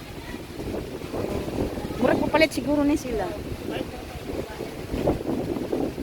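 Strong habagat monsoon wind buffets the microphone at a beach in a continuous rush, with people talking over it throughout.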